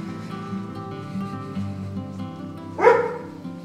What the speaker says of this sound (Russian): Собака занервничала, потому что людей не видела уже давно.